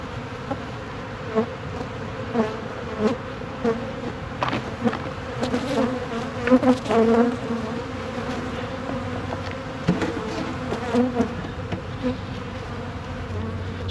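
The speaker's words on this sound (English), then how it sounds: "they're up in the air and flying around a little bit at the minute, they'll soon calm down, these bees" Disturbed honey bees hovering over a scrap-wood nuc hive, a dense, steady buzz of many insects with individual bees droning close past now and then.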